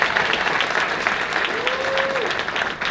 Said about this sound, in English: How about a round of applause for your wait staff working hard for you tonight?